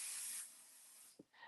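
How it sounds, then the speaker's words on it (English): Pixie adhesive spray hissing from a can as it is sprayed, one strong close burst that fades out, followed by a short tap and a second brief hiss. "So I'm going to go ahead and spray this quick off the side."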